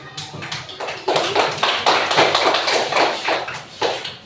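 A class claps for a group of students after their presentation, with a small number of hands producing uneven, fairly close bursts of clapping that rise and fall over about four seconds.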